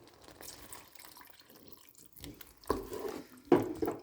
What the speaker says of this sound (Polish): Jeżeli uznamy, że jest trochę za gęste, po prostu dodajmy wody